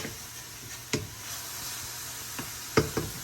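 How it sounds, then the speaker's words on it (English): A spoon stirs Spanish mac and cheese in a pan, giving a soft low sizzle with a few scattered knocks and scrapes, one sharper clack near the end, no voices. "Stir this up a little more."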